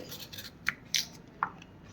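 Carrots cut by knife in a home kitchen while preparing masala rice, a few crisp, close chopping taps spaced irregularly over soft background noise.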